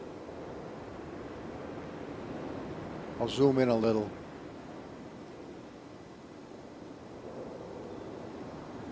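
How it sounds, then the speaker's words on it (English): Water falling into rocky crevices in the video game Riven, a soft continuous rushing wash at low level, with someone briefly talking near the middle. "Look how the water falls into itself in those crevices."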